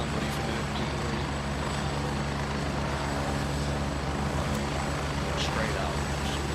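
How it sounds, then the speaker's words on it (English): A video game helicopter in flight makes a steady, dense rotor and engine roar that fills the whole clip without letting up, with voices faintly under the din. "Let's go take a chopper ride."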